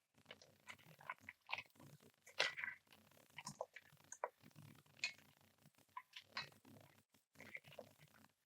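Repeated close crunching and chewing of crispy Hennessy barbecue chicken wings, irregular wet crackles arriving one after another over several seconds, fairly quiet.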